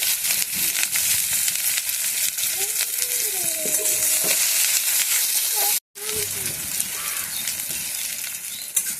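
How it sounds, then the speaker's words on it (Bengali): Chopped onion and green chilli frying in hot oil, a dense close sizzle with stirring scrapes throughout, briefly cutting out near the end before resuming. "সবাই প্রথমে আমি পেঁয়াজ কুচিটা ফোড়নে দিয়ে দিলাম, পেঁয়াজ কুচির সাথে লঙ্কা কুচিটাও ফোড়নে দিয়ে দিলাম।"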